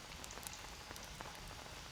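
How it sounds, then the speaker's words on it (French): Steady rain pours down in the jungle survival game Green Hell, a dense even hiss of drops pattering on surfaces, moderately soft and uninterrupted, with no voices. "Genre il pleut tout le temps dans ce jeu."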